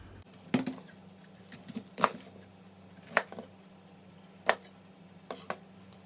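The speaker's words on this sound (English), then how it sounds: "now we can start chopping our broccoli and cauliflower" A knife thumps on a cutting board in sparse, irregular chops through broccoli and cauliflower, fairly faint over a low steady hum, with no talking.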